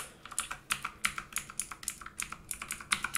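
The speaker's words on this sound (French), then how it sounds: "Et quand je tape doucement, ça fait ça." Soft, gentle typing on a gaming keyboard with blue switches, evenly spaced clicky keystrokes heard close and alone, quieter than full-force typing.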